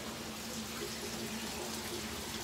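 Water from large tanks flows steadily into aquaponics tubs in a greenhouse, a continuous close rushing hiss without pauses.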